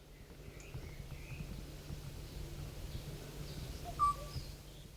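A single short bird call rings out once over a quiet outdoor background with faint distant chirps.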